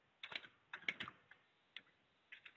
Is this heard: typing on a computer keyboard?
yes